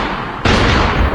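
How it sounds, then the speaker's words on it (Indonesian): A pistol gunshot in a film's climactic scene goes off with one loud, abrupt blast that cuts over a steady soundtrack bed and leaves a dense, booming tail. "Lalu Hana menembak Marissa dengan pistol Marissa sendiri."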